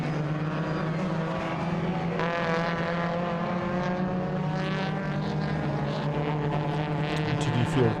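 Race cars circulate at the Zwartkops circuit in a race, their engines droning and revving with shifting pitch close by, while a commentator talks over the noise.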